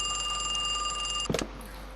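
A phone rings inside a shop in a horror video game, a steady electronic tone holding through most of the moment before breaking off with a brief burst of clatter.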